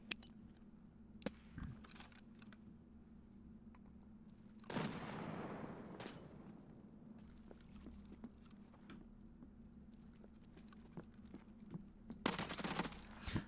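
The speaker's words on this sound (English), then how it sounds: "So we'll lob another nade." A grenade blast in the video game Escape From Tarkov bursts out loud and close partway through, followed by a decaying rumble, with scattered gunfire-like clicks and bangs around it and a sharp crack near the end.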